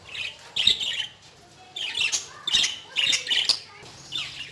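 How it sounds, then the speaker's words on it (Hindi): Two caged parrots give harsh, loud squawks in several bursts close by, with short pauses between calls. "ये भी बस 2 पैरट्स रह गए हैं, ये बहुत डीप से हैं"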